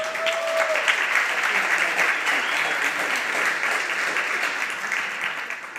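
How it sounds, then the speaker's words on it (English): Sustained, even applause from a large conference audience rings out throughout, a dense wash of many hands clapping at a steady level. "Please applaud for them."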